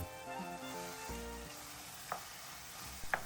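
Ground beef for tacos sizzles steadily in a pan, a soft continuous frying hiss, broken by a few light scrapes and clicks as a utensil stirs the meat.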